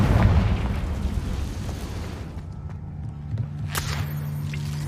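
A Confringo fire spell explodes in the Hogwarts Legacy video game, a fiery blast that rumbles loudly at first and fades into low game ambience, with a sharp burst later.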